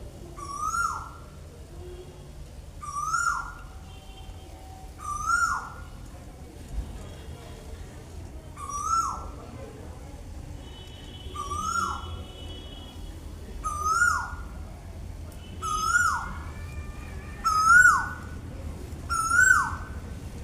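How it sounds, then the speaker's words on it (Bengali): An Asian koel, a cuckoo, calls outdoors in a series of repeated rising whistled notes about every two seconds, carrying clearly at moderate distance over a quiet low background hum. "আর এই মুহূর্তে আমাদের এখানে একটা কোকিল খুব সুন্দর করে ডাকছে, সেই আওয়াজটা তোমাদের একটু শোনাতে চাই"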